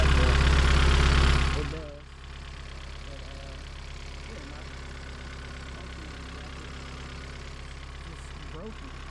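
A car engine fitted with a K series manifold idles rough, loud for a couple of seconds and then settling into a steady, lower hum, with a person talking over it.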